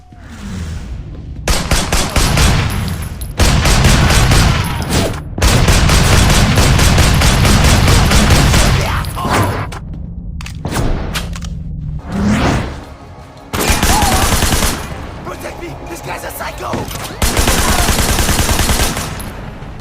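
Loud, sustained bursts of gunfire from the action game Sleeping Dogs, rapid automatic volleys and heavy shots separated by brief gaps, with intermittent whooshes and booms under a dense wall of noise.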